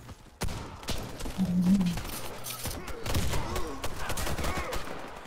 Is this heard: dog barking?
no